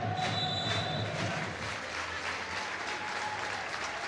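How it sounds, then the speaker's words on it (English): A stadium football crowd at a cup final between Shamrock Rovers and Drogheda United applauds steadily for Gary O'Neill, a distant, continuous wash of clapping that fills the ground at moderate loudness. "The round of applause, by the way, is for Gary O'Neill"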